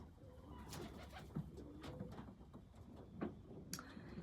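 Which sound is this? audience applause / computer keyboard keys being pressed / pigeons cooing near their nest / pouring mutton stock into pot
pigeons cooing near their nest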